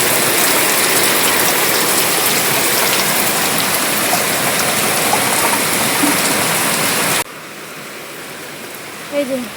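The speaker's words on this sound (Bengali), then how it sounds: "কি সুন্দর বৃষ্টি হচ্ছে" Heavy rain pours steadily and loudly as a dense broadband hiss for about seven seconds, then drops abruptly to a quieter, more distant patter with a few faint background sounds.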